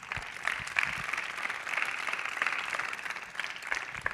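A church congregation claps for itself, with a soft, continuous patter of applause that sounds somewhat distant and muffled and holds at an even level throughout.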